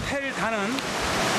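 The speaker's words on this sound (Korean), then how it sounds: "숲으로 들어갈수록 물소리가 점점 커지는데요" At Tel Dan in northern Israel, a spring-fed stream rushes through the forest in a steady, loud wash of water, with someone speaking briefly over it.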